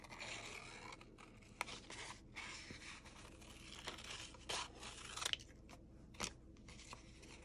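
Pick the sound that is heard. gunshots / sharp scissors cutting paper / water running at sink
sharp scissors cutting paper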